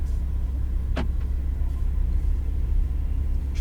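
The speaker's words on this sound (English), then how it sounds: "And let's pull forward here." A Lamborghini pulls forward at low speed, its engine giving a steady deep rumble from inside the cabin, with a brief sharp click partway through.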